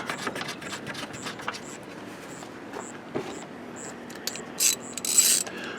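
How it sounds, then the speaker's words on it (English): A socket ratchet screws a ball pivot into a vehicle tailgate during a lift-support strut replacement, making rapid, close, evenly spaced clicking that runs continuously, with a couple of louder metallic scrapes near the end. "Now we're going to take this new ball pivot and I'm going to screw it in to the tailgate."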